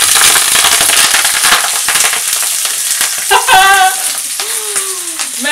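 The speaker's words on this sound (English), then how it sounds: "The way to check if it's sizzling hot is we're just going to put a little bit of veg in." Vegetables hit a very hot wok for a stir fry and sizzle and crackle loudly up close, a steady dense hiss broken by sharp pops and a few clinks of utensils.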